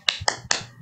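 Three sharp, close claps in a quick rhythm ring out, a classroom's 'tepuk semangat' spirit clap in a second-grade lesson, each crisp and short with brief silence between.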